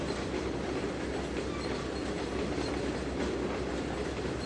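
Freight train cars (high cubes, tankers and reefers) roll past in the video game Trainz 2022, a loud, continuous rumble with steady clickety-clack of wheels over rail joints.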